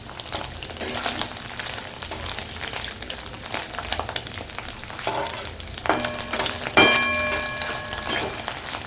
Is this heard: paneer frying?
yes